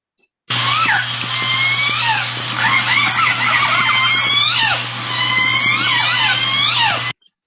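Orcas of the J pod calling underwater, a continuous stream of overlapping high squeals, whistles and sweeping pulsed calls over a steady low hydrophone hum, loud and busy throughout.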